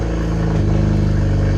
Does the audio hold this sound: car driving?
yes